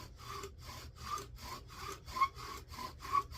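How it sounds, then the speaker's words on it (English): Bow drill spinning against wood to build an ember for a fire, a steady back-and-forth rasping stroke repeating about twice a second, close and alone. "I just go easy drilling until my notch is full."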